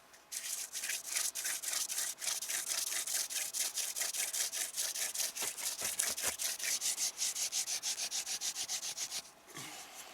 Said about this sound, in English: I can get this little hand drill to work in the winter time